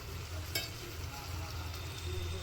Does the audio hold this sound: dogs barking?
no